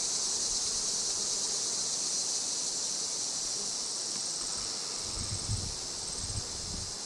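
A swarm of bees clustered inside a bait hive gives off a steady, continuous high buzz close by, with faint rustling and low thumps toward the end and no voices.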